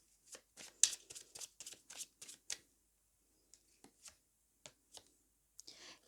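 Tarot cards being shuffled and drawn, a quick run of crisp riffling snaps close by, then a pause and a few scattered soft card flicks and slides, quiet with no talking.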